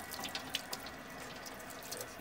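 Water runs steadily from a garden hose in a home experiment, a faint, continuous splashing hiss with a few soft drip-like taps, heard alone.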